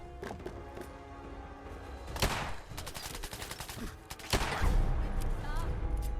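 Gunfire aimed at the player in the video game Fallout 4: scattered loud cracks and thuds stand out over a busy background of game sound, with two sharp bursts especially prominent.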